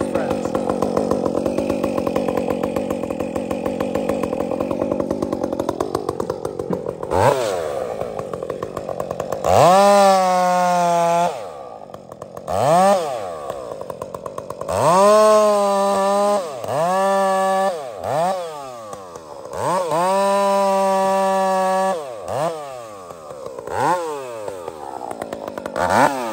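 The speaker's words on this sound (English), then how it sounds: "do you want to see how hungry this saw was?" A chainsaw cuts through an old tree, first idling for several seconds, then revving hard in repeated loud bursts that rise and fall as the blade bites into the wood.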